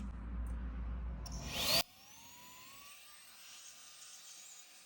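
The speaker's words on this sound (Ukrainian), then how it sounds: "Включаємо на надпотужну швидкість і все це видуваємо сміття з нижньої петлі." A vacuum cleaner set to blow at maximum power clears debris from the lower hinge of a plastic window with a loud, rushing roar that cuts off sharply after under two seconds, leaving a faint whine winding down.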